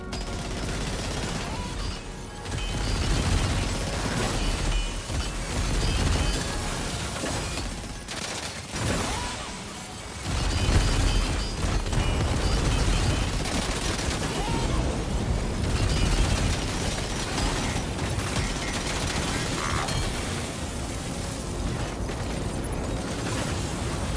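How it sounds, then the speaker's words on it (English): Main cannon of the Magellan laying down a barrage of explosions in the video game Death Stranding 2, heavy booms and bursts rolling continuously and loud for the whole stretch. "The Magellan's main cannon is online and ready to provide fire support."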